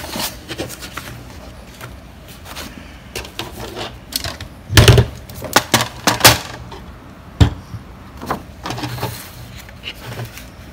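Paper for an envelope mini album being cut by hand up close, heard as a run of crisp snips and rustling handling noises that cluster into a louder burst midway, with no talking.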